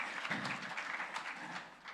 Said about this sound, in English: Bosire, tupige makofi tafadhali